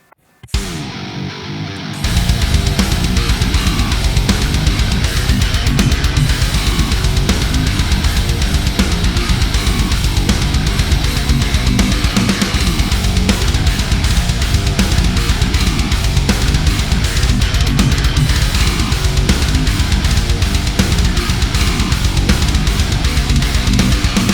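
A dense, loud metal track plays throughout, with heavy distorted guitars and pounding drums forming a constant wall of sound after a brief opening.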